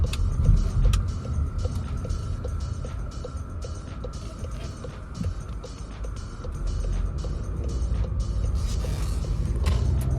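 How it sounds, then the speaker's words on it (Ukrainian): A Volkswagen Tiguan Motion with a 2.0-litre engine and DSG gearbox drives along, heard from inside as a continuous low road and engine rumble with scattered light clicks and creaks, no talking. "І давайте трішки проїдемо, з ним побачимо як він їде."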